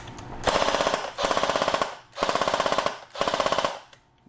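Echo 1 240 Bravo AEG airsoft rifle running on a 9.6 volt battery with a MOSFET and heavy spring, firing four loud, close full-auto bursts of rapid, evenly spaced cycling, each about a second long, with brief gaps between.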